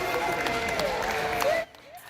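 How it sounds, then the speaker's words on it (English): A small group of about a dozen supporters claps and cheers at Halifax airport, steady applause with scattered shouts, heard close under an overlying tone before cutting off abruptly. "The 22-year-old walked through the doors at the Halifax airport to see about 12 clapping supporters."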